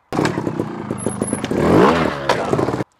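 Off-road trials motorcycle hopped, jumped and flicked around close by, engine revving in short rising bursts amid clattering and scraping impacts, a louder surge near the middle before cutting off.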